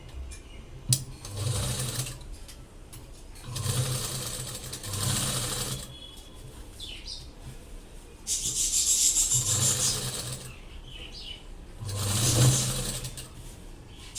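A sewing machine stitches a sleeve onto a lined blouse, starting at the shoulder seam. It runs in several short, close bursts of rapid whirring with quiet pauses between them.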